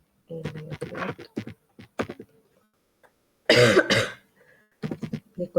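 A person talks quietly, then breaks into a loud, harsh cough burst, before resuming speech.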